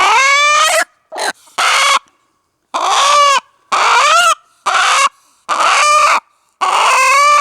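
A young 3/4 Asil, 1/4 Shamo cross chick calls loudly and close by, about seven strained, squawking clucks in a steady series with short silent pauses between them.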